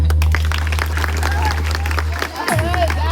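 Steady clapping from a crowd, fairly loud and continuous, with a low hum and some voices mixed underneath.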